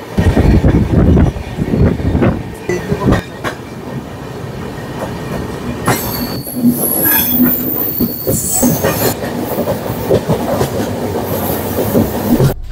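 The Kamakhya Puri Express running on rails, heard loud and close from near an open door, with rumbling wheels, rhythmic clickety-clack and long high wheel squeals.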